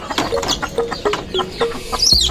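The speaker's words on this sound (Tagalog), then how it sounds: "Dami ko ng manok" Backyard chickens cluck in short, close, repeated bursts, with a brief higher bird call near the end and no talking.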